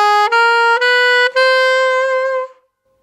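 Alto saxophone plays a nearly chromatic rising phrase, four bright, sustained notes in succession, the last held and fading out, solo and close with no other sound.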